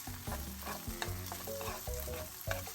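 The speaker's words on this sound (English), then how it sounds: "So let's saute this together" Chicken sautés in Alfredo sauce in a pan, with a soft bubbling sizzle broken by repeated spoon scrapes and clinks against the pan, close up and without voices.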